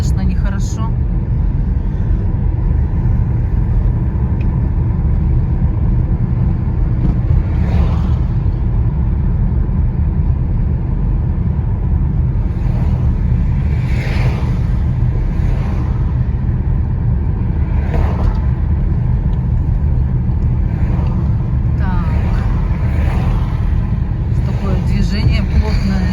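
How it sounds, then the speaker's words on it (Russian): A car drives along a newly repaired street in Yakutsk in dense traffic with the window open, filling the cabin with a loud, steady low rumble of road and wind noise that never lets up, and a voice talks now and then over it. "я с открытым окном еду"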